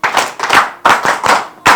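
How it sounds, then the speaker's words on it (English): Three quick bursts of hand clapping, each a short run of sharp claps, close and loud, with brief gaps between. "clap for yourselves"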